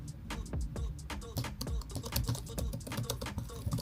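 Typing on the backlit, tactile keyboard of an ASUS ROG Zephyrus G16 laptop: a steady, dense run of close key clicks and taps continuing throughout without pauses.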